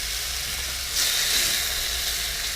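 Meat sizzles and fries in a wok on a boat while a spatula stirs it, a steady close hiss that swells louder partway through, with no talking.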